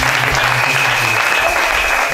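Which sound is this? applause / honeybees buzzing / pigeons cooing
applause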